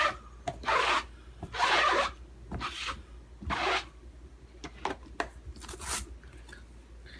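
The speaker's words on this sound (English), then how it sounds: "let me just grab my chamois and clean off this stamp" A rubber stamp being wiped clean with a chamois, giving several soft rubbing and rasping strokes in short bursts, close and fairly quiet, with brief pauses between wipes.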